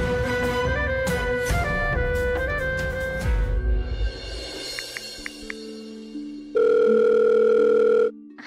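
A telephone call tone plays: a run of electronic beeps and melodic tones, then a long, loud steady tone held for a couple of seconds before cutting off, with no speech.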